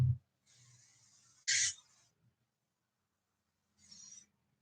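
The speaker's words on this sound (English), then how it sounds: "I'm gonna hit it with Amos hairspray on this side." Amos hairspray misted onto freshly curled hair in a few short hissing bursts: a soft spray, one louder close puff, then a brief final spritz after a pause.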